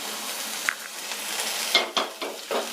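Green chilies, ginger and curry leaves sizzle in a hot pan for masala dosa filling while a spoon scrapes and stirs, with occasional metallic clinks over a steady frying hiss.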